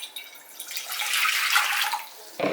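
Warm water poured from a container into a bowl for hoagie roll dough, a continuous splashing pour that swells and ends abruptly.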